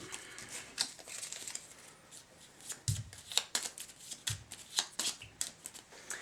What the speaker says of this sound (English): you simply just put them all together in any way you like, and then shuffle them all up